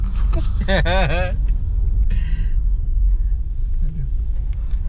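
A car rolls slowly along a narrow village lane in Sumedang, a steady low engine rumble continuing throughout while people talk over it near the start and briefly in the middle.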